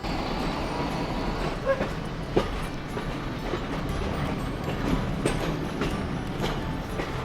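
A passenger train operated by the Bhakra Beas Management Board rolls along its rails with a continuous, steady rumble and faint rhythmic clatter, heard from inside or near the carriage with no talk.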